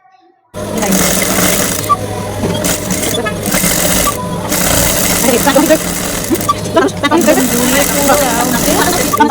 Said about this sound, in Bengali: এখন আমি সাইডের যে একদম সাইড সেলাইটা সেটা দিয়ে দিচ্ছি